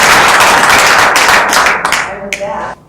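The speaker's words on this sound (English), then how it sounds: "So I'd like to give a round of applause for our sponsors." Audience applause for the sponsors at an international workshop in Atlanta, a dense wash of clapping that holds steady for about two seconds, then thins to scattered claps and fades out.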